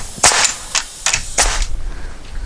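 Sharp, loud hammer blows drive a nailed wooden piece into place in a rotted garage wall under rebuild, with four irregular strikes close by.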